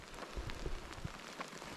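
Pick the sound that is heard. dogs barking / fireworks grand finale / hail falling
hail falling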